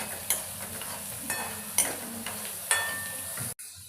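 A spoon works through a frying mix with peanuts in a pan, giving a few distinct scraping strokes over a soft, continuous sizzle, near and fairly loud, before cutting off abruptly at the end.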